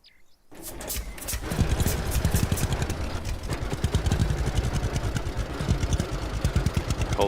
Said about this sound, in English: I know this tractor can be quite loud, sometimes louder than me